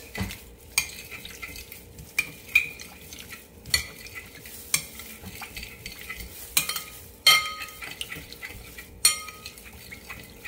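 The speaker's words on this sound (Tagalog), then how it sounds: "Yan, ihalo para ma-mix." A spoon works through a seaweed salad dressing of vinegar in a bowl, scraping and clinking against it in a steady stirring rhythm with regular sharp taps about once a second, close and clear, no voices.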